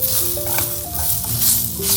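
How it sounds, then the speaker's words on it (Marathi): Tomato roasting together with coriander seeds and fennel in a pan for a prawn rassa masala, a loud, steady close-up sizzle with soft stirring scrapes and a faint tonal hum behind. "सगळं एकत्र भाजून घ्यायचं."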